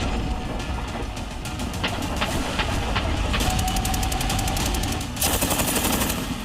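An Israeli-made light machine gun rated at 600 to 750 rounds per minute fires in rapid bursts of sharp cracks, loud and close, ending in a dense final burst.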